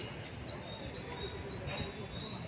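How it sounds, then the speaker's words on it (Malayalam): Birds chirping outside a temple in Bangalore, repeated high short tweets about every half second, moderately near over faint background hum, with no one talking. "നല്ല കിളികളുടെയൊക്കെ ശബ്ദം കേൾക്കുന്നില്ലേ?"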